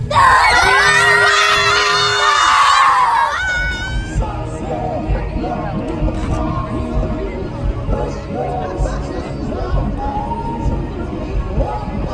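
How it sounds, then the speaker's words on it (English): A crowd of children at an air show shrieks and cheers at full volume for a few seconds, then drops to excited chatter and scattered shouts. "You guys gotta just start like acting crazy and screaming and stuff."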